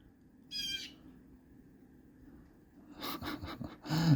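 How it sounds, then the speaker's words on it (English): Blue jays call from trees overhead in Bellport, New York: one short harsh call early, then a burst of several loud rasping calls near the end, with quiet outdoor background between. "there's like blue jays up in the trees right here"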